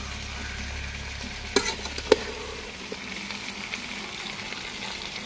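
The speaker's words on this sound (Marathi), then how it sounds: "आणि आता ही भाजी टाकूया। चांगलं परतून घेऊया।" Raw jackfruit pieces tossed and sautéed in a pan over a wood-fired clay stove give a steady low sizzle, with a few sharp scrapes and clinks of a spoon against the metal.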